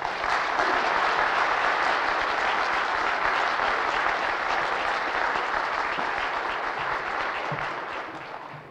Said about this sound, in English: give him a round Nova Scotian applause?